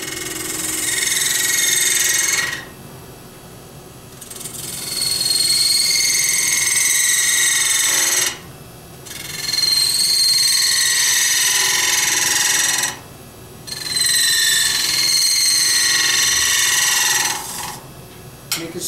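A pewter collar turned on a lathe, with the cutting tool chattering in three long, steady rasping bursts separated by short pauses. Loud and close, with no talking.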